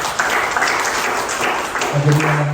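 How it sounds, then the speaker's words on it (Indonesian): Applause from a church congregation after a sermon at GBI Rock Cianjur, a steady broadband wash of clapping lasting throughout, with a voice or tone rising near the end. "Berikan tepuk tangan bagi Tuhan Yesus."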